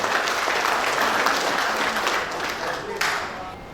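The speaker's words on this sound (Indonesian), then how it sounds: "Sekali lagi tepuk tangan untuk Satpol PP dan pemadam kebakaran." An audience gives sustained, dense applause for municipal public order officers (Satpol PP) and firefighters at a training event in Kediri, loud and continuous, tapering slightly near the end.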